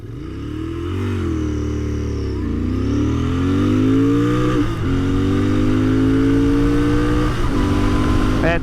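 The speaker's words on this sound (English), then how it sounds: "I'm gonna try to do a proper 0 to 60 on this bike" A Royal Enfield INT650 motorcycle accelerates hard from a standstill to 60, its loud engine climbing steadily through the gears with brief dips at each shift, close and continuous.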